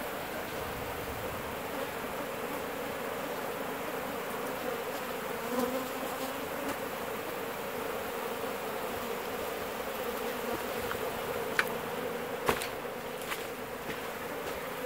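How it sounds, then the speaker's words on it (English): Dense buzzing of many honeybees around a hive removed from an abandoned house, a continuous droning hum close by, with a few brief clicks near the end. "most of these bees are on top"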